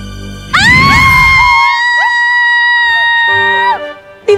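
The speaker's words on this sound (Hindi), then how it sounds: "दिवाली बहन, क्यों चिल्ला रही हैं आप?" Women on a fantasy TV show let out a sustained loud scream. It starts abruptly with a bang-like onset, holds steady for about three seconds and then cuts off.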